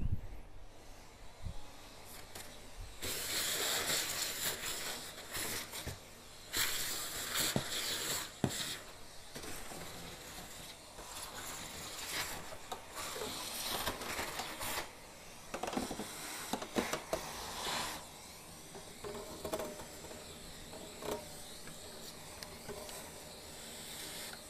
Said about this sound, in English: tell me if the vacuum cleaner is too loud.